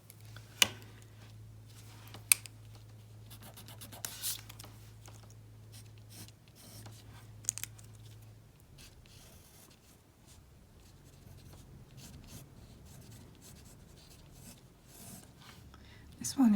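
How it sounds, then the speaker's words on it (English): A pencil drawing of a daffodil on paper being erased, giving soft intermittent rubbing and scratching strokes close up, quiet under a low steady hum with brief sharp ticks. "So I can erase all the construction lines now."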